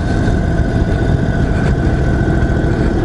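A 2021 Indian Chief Dark Horse motorcycle idles in its softest engine mode, a steady, close, loud low rumble that holds even and unbroken from start to finish.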